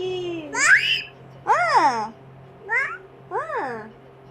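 A young child imitating a cat's meow, four separate high, rising-and-falling meow calls spaced about a second apart, close and clear.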